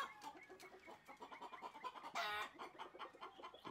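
Chickens, including an English hen, cluck softly and repeatedly nearby, with one louder squawk midway, in a quiet outdoor setting.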